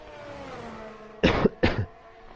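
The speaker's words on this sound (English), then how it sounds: "I do apologise again for the coughing." A race commentator coughs twice in quick succession, close and loud, after a faint low hum of background engine noise.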